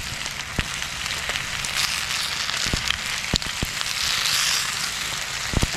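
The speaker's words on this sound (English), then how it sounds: "Can you hear the sizzle?" Turkey bacon sizzling in a pan at a campground, a steady bright crackling hiss with scattered sharp pops, close and continuous for several seconds with no talk.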